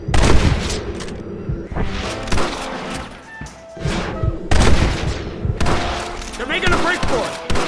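Gunfire erupts in a Red Dead Redemption shootout, with rapid volleys of shots and booming impacts repeating over several seconds, loud and close, mixed with shouting voices.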